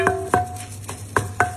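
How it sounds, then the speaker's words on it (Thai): Leftover fish such as snakehead or tilapia is pounded in a mortar, with five sharp, close thuds at an uneven pace over a faint steady hum. "ใส่ครกเลยหรือเครื่องปั่นก็ได้แล้วแต่เราสะดวกก็โขลกลงไปโขลกปลาให้ละเอียด"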